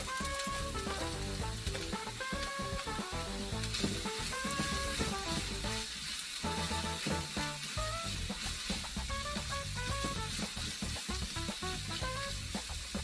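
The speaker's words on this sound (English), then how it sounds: "I'll let the carrot cook down for some time" Carrots and onion frying in vegetable oil in a wok, a steady, close sizzle running the whole time, with background music playing over it.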